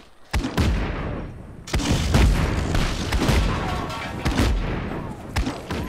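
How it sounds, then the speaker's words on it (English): Repeated explosions in Just Cause 3, a string of loud booming blasts with sharp onsets, about six heavy impacts rolling into one another over continuous rumbling debris and gunfire-like cracks. "All of the explosions are happening right now"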